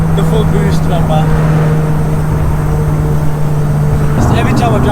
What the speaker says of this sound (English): Fifth gear pull this is.